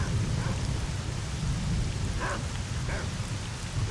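Steady heavy rain pours down in the video game STALKER: Shadow of Chernobyl, a dense constant hiss with a low rumble underneath and a few faint brief clicks, no voices.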